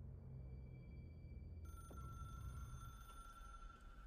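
An old-style telephone bell rings in the video game Control, a steady metallic trill that starts partway through and continues over a low rumbling game background.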